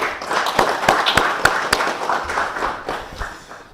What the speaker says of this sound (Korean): 복귀대 교수님을 큰 박수로 환영하여 주시기 바랍니다.